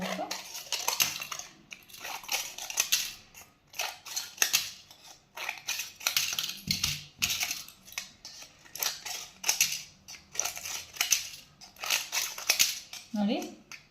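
Scissors snipping through a sheet to make the blades sharper, a steady run of crisp close-up cuts in rhythmic bursts about every second, each a clustered metallic snip, with a short voice sound at the very end.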